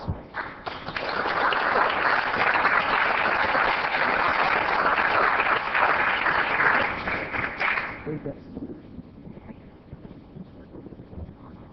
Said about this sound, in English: Let's help celebrate with a round of applause.